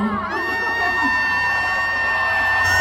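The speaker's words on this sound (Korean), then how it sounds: "벌써부터 함성 소리가 장난이 아닌데요?" A festival concert crowd cheers and screams loudly and continuously at an opening-ceremony celebration show in Sunchang, while sustained tonal music or synth tones ring over the noise.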